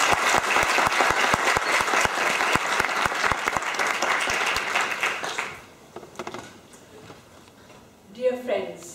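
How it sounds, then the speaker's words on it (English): Dense applause from an audience greeting the Indian ambassador at a university lecture in Linköping, loud and sustained for about five seconds before it fades to room quiet and a voice starts to speak. "So please show applause warmly for Mrs."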